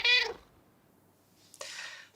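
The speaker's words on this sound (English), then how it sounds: "a Mars cat plopped out of the dinosaur's bum." A cartoonish cat meow used as a sound effect in a read-aloud children's bedtime story, one loud short meow at the start, then near silence before a second breathy meow sound near the end.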